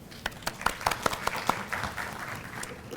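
Audience applause at a pharmacy college induction welcoming guest speaker Dr. Zadav, starting with a few sharp, separate claps close by that quickly thicken into denser clapping from the hall, then ease off toward the end.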